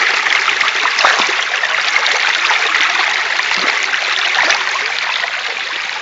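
Water rushes steadily through an underflow sluice, making a loud, close, continuous gush with small splashes and gurgles. No voices are heard.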